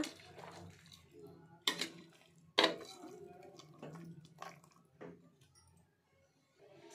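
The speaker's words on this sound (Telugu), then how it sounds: "మసాలా అంతా యాడ్ చేసుకున్నాం కదా, ఇట్లా మిక్స్ చేసుకోవాలి ముక్కలు బాగా పట్టేడుగా" Chicken pieces being stirred with ground masala in a pan for naatu kodi pulusu, giving soft squelching scrapes and a couple of sharp metallic knocks of the spoon against the pan.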